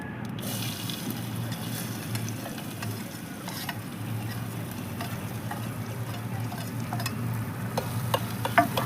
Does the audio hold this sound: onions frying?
yes